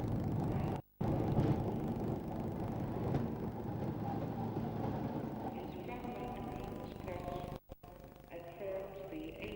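A Brush Type 4 diesel locomotive brings a King's Cross to Newcastle train into York station, a steady low engine rumble and rolling rail noise with brief dropouts, under a voice.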